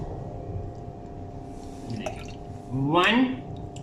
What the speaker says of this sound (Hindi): सबसे पहले मैं डालूंगा इसमें वॉर्सेस्टरशायर सॉस